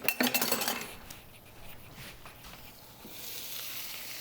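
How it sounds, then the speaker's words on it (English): Giant meatballs for spooky eyeball pasta being turned over in a pan, with a brief clink of utensil on pan up front followed by a soft, steady sizzle of frying that swells slightly toward the end. "let me turn the meatballs over"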